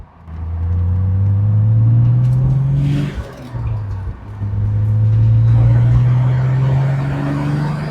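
Toyota Supra MK3 engine held near 2,500 RPM, a loud steady low hum with a brief dip midway, heard close from inside the car.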